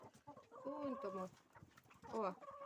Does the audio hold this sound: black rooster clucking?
yes